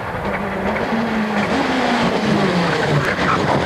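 Rally car on a gravel stage at the Galway International Rally 2006, engine revving loud and continuous with a handbrake skid and a rising, sliding engine note, no talk.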